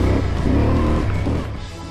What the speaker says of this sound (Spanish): un sonido precioso del motor que le gusta andar a altas revoluciones